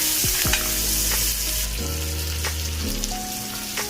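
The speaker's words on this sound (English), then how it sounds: "Just stir them really well so that all the masalas get coated." Okra and masala stirred and frying in a pan for Punjabi dhaba-style bhindi masala, a steady close sizzle with scraping stir strokes and faint clinks, no voices.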